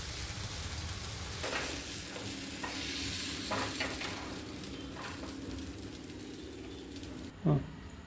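Appam batter sizzles softly and steadily on a hot oiled griddle, with a few light utensil scrapes and a brief knock near the end.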